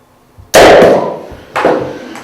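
Methanol vapour ignited by a spark inside a closed vessel during a classroom chemistry demonstration goes off like a small cannon: a sharp, loud close bang with a ringing tail, then a second, weaker blast about a second later.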